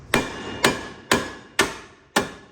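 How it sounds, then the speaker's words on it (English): Five sharp metallic hammer strikes on a car part ring out at an even, unhurried pace, each decaying quickly before the next, close and loud. "we're gonna smack this sucker with a hammer"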